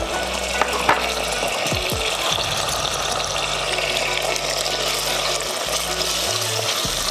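Chicken liver and gizzards frying in a pan with a stock cube, a steady sizzle running throughout, close and even, with occasional stirring clinks and no talking.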